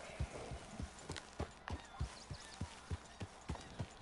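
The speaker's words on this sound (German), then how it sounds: "Die Pferde von den anderen." Horses trotting in the video game Red Dead Redemption 2, crisp evenly spaced hoof clip-clops in a steady two-beat rhythm, fairly close over a faint ambient bed.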